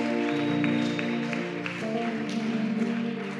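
A church congregation at a Sunday thanksgiving service claps and acclaims the Lord, steady applause layered with music and voices, fairly close and continuous.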